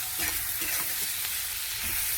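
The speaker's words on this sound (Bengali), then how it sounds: "জিরের গুঁড়ো, ধনের গুঁড়ো, মশলাটাকে ভালো করে ভেজে নেব" A spice paste of ground cumin and coriander fries in oil in a pan, giving a short, steady, close sizzle with a soft crackling texture.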